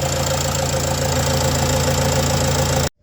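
A Renault Trafic 2 engine idling after its PCV valve was replaced, a steady loud rumble with an even rhythmic chug close by, cutting off abruptly near the end.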